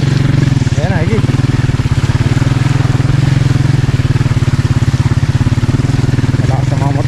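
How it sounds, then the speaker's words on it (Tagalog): Loud motorcycles run nearby with a steady, pulsing engine throb that holds for several seconds while people talk over the noise. "Malakas ang mga motor oh."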